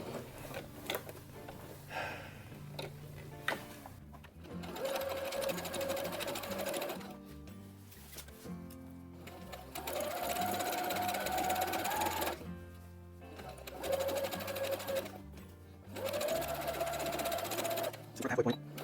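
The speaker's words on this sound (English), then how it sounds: "All right, let's just sew this collar." A sewing machine stitches the collar of a Star Wars costume jumpsuit in several bursts, running steadily for a few seconds at a time between pauses, with a person speaking over parts of it.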